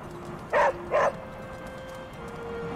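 Charlie the dog in Marvel Midnight Suns gives two quick close barks a half second apart, over a quiet hum of game ambience.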